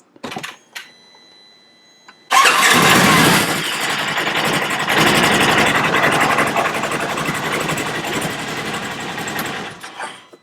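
A Polaris RZR S 1000 side-by-side engine cranks and fires up just after its first oil change, then settles into a loud, busy idle close by after a few faint clicks and short starter bursts.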